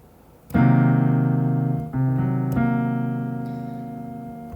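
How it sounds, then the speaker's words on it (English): A sustained half-diminished seventh chord rings out clearly on a keyboard-like instrument, struck, then restruck twice as it slowly fades, alone with no voices. "So you have a half diminished 7th, which is a diminished triad and a minor 7th."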